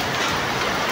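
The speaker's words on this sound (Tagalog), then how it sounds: "kasi umuulan po talaga, wala po tigil yung ulan" Heavy rain falls on a leaking house roof as a steady, dense hiss with no pauses and no voices.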